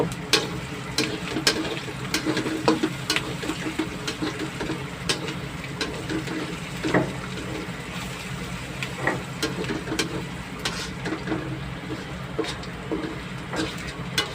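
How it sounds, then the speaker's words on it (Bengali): Onions sizzle and fry steadily in a pan for a katla fish curry, a continuous crackling hiss with scattered sharp ticks and faint stirring scrapes, moderately close, with no talking. "পেঁয়াজ কষানো হচ্ছে পেঁয়াজ কষানো শেষ পর্যায়ে"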